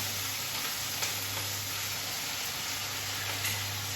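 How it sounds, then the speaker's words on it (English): Pork chops sear over high heat in a hot pan, producing a constant dense hiss and sizzle at an even level throughout, close and moderately loud, alone. "And we just want to sear them down."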